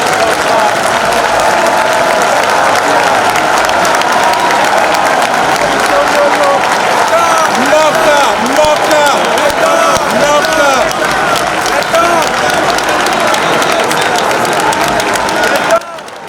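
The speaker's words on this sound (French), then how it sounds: "dont l'entrée dans la salle a provoqué un tonnerre d'applaudissements." Thunderous, dense applause fills a ceremony hall for a Congolese magistrates' training ceremony as the presiding chief magistrate enters, steady and loud throughout with crowd murmur beneath, then cutting off near the end.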